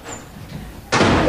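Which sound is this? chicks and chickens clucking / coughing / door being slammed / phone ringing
door being slammed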